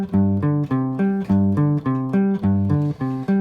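Jazz guitar comping a chord progression, a steady run of sustained chords struck in a regular, syncopated rhythm, close and fairly loud, with no talking.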